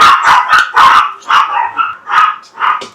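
A spoiled dog barks loudly and close in a rapid series of about eight sharp barks, with yappy, whiny edges and brief pauses between them.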